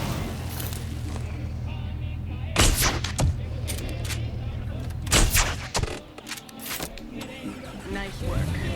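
Gunshots in Jurassic World Evolution aimed at Krampus crack out in two tight clusters of sharp reports over a constant low engine-like hum, with a voice talking in between.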